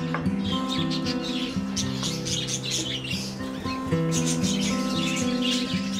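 Zebra finches and parakeets chirp and tweet continuously in a busy aviary chorus, overlapping calls filling the air at steady volume with no talking.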